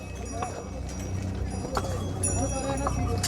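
Horses' hooves clip-clop on the steep, slippery Kedarnath mountain trail on the trek down to Gaurikund, a run of uneven hoof strikes heard under people talking nearby.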